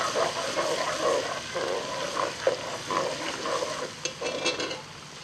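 Ginger garlic paste fries in a pan for dhaba-style aloo keema, giving a moderate steady sizzle with soft stirring scrapes and small irregular spits throughout.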